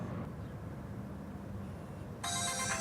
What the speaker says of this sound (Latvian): Meitenes zvana.